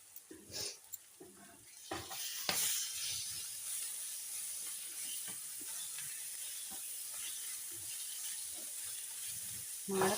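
Garlic chili paste frying with onions in a pan hisses and sizzles steadily while a spoon stirs and scrapes at intervals, the strokes clearest near the start; no one speaks.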